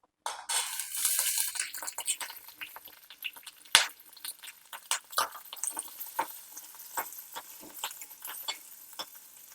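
A metal spatula scrapes and clinks against a pan as green chillies fry, soft sizzling underneath irregular stirring taps, close and fairly quiet.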